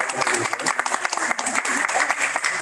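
A board meeting audience claps for a newly introduced board member, a short burst of dense hand clapping that fills the room for a couple of seconds with uneven, choppy peaks.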